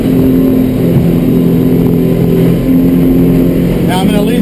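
Steady, loud drone of a 24-foot Edge Sport OS motorboat engine holding a turn with the trim up, continuous throughout with water rush and wind noise.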